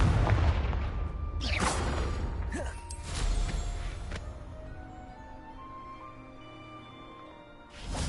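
Confringo spell explosions in the video game Hogwarts Legacy: a few booming blasts with sharp onsets, loud at first and then fading into a lingering rumble and ringing tail.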